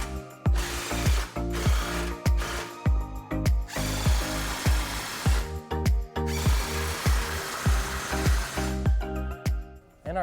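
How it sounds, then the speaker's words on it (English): Ratchet wrench with a 15mm socket tightening stainless steel exhaust clamps on a 2009-2018 Dodge Ram during a Flowmaster muffler install, giving steady rapid clicking strokes in repeated bursts with brief pauses, close and loud. "Tighten up all the clamps with a 15mm socket."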